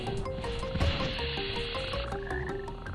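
Frogs croak in the video game Snowflake's Chance, a loud chorus of repeated tonal croaks overlapping in quick rhythm against a busy game background, with no speech.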